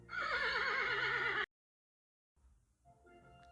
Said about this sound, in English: The Arabian horse came from the Arabian Peninsula.